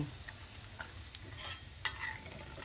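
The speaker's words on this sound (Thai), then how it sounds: "พอน้ำมันร้อนจัดๆนะคะ ตัวหนังหมูเขาก็เริ่มแตกแล้วก็กรอบขึ้นเลย" Pork skin frying in very hot oil for Thai crispy pork rinds, giving a low steady sizzle with scattered crackles and one sharp pop, heard close up with no talking.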